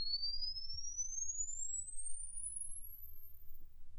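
A single steady test tone sweeps smoothly upward in pitch through car speakers after an Alpine upgrade in a Ram 1500, playing alone and fairly faint over a low background hum.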